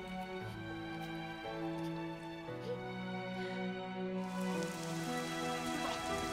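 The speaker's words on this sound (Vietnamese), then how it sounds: "Sao mưa to như vậy?" Heavy rain pours steadily throughout a Chinese anti-Japanese war action drama, a dense continuous hiss under prominent music.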